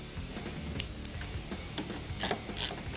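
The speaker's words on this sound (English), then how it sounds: "the first thing I'm going to do is remove the stock bolts from the side of the forks here" A hand ratchet clicks rapidly while loosening the stock bolts on the side of motorcycle forks, a close, steady run of metallic pawl ticks punctuated by a few sharper clacks.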